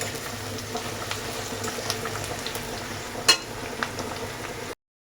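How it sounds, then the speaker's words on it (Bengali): Chicken pieces fry in a pan with salt and turmeric, a low, steady sizzle with scattered pops and a couple of sharper spatters or utensil knocks, then an abrupt cut to silence. "আমি চিকেনটা বসিয়ে দিয়েছি আর লবণ হলুদও দিয়ে দিয়েছি এখন একটু চিকেনটা ভাজা ভাজা করে নেবো"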